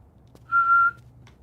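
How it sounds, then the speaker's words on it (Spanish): A ship's whistle in the video game Layers of Fear 2 gives one short, clear, steady tone of about half a second, heard alone against a quiet background. "Yo quiero ese silbato. ¿Me puedo pedir ese silbato para mí?"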